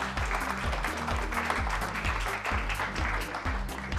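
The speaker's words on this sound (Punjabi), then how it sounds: "ਇੱਕ ਵਾਰ ਜ਼ੋਰਦਾਰ ਤਾੜੀਆਂ ਆਪਣੇ ਜੀ" An audience applauding at the grand finale of a cooking competition show, dense steady clapping with a rhythmic beat underneath, sustained throughout.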